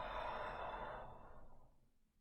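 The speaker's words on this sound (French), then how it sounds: "Lente expiration par la bouche." A single slow exhale through the mouth, close and breathy, fades out over about two seconds with no talking.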